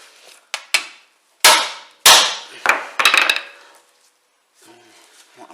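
A few sharp metallic taps strike a Land Rover Discovery rear brake disc, about six close, ringing hits spaced unevenly with quiet between them, followed by faint rustling.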